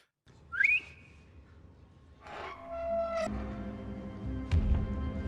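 A person whistles sharp rising and sliding notes in short separate bursts, fairly close, over quiet background noise with a passing hum.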